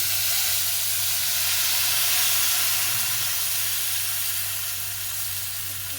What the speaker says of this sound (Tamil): இப்போ எங்களுக்கு புளியும் சேர்ந்து கொதிச்சு கொண்டு வருது